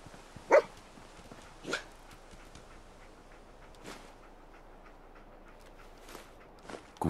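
Dogmeat, the dog companion in the game Fallout 4, gives a few short, sharp barks spaced far apart, fairly close and clear against a quiet, hushed background.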